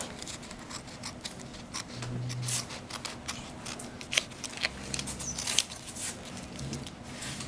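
Scissors trimming tape on the wire fins of a fish sculpture, giving small crisp snips and light rustling of tape and wire close by over a soft background hiss, with no talk.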